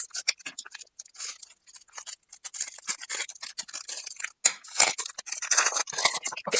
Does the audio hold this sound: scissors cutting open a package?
yes